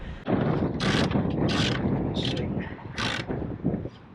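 Ratchet tightening a bolt on boat ratlines, with repeated short clicking bursts over a rough mechanical rasp, close by and moderately loud, with a little outdoor wind noise.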